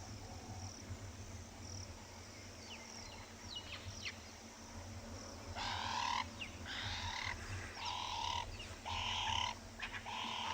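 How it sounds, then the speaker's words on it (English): Dove calls at sunset on a Tswalu safari: repeated cooing phrases from about halfway through, moderately loud over a steady low background hum, with fainter bird calls earlier. "Lovely dove sounds."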